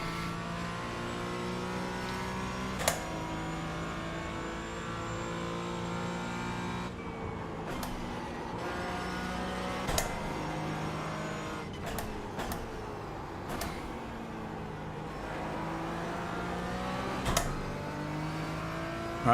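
Mazda MX-5 race cars whine through their gears in a sim racing game, engine tones rising and falling across repeated shifts, with sharp clicks or bumps now and then.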